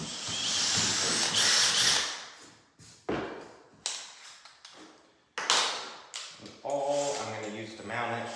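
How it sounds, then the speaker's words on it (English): A power drill runs in a short burst close by, followed by scattered knocks and taps, then a brief second drilling sound. "So we'll find the center of this and drill a hole."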